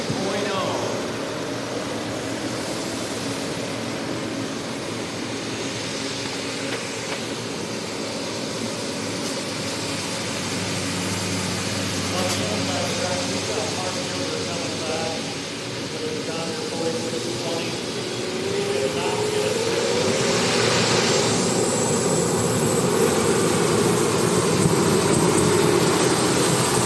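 Turbine-powered pulling tractor at a 4-H county fair tractor pull, a loud continuous whine and roar that builds and rises in pitch near the end, with people talking over it.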